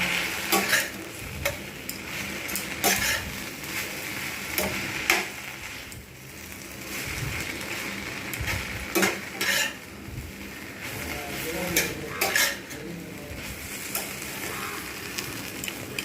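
Six slices' worth of bread pieces are stirred in a sizzling pan for bread pulao, with a soft frying hiss under repeated, irregular spatula scrapes and metallic clinks.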